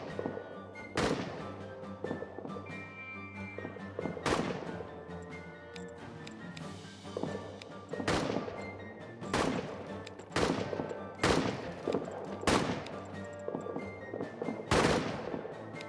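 Gunfire in the trench-warfare video game All Quiet in the Trenches, with sharp shots cracking at irregular intervals over a droning battlefield background, loud and close.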